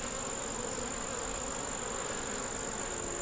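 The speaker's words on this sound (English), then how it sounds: "some angry bees" Angry honeybees buzzing at a nuc box, a dense steady drone with a high whining tone running throughout, close and constant with no talk.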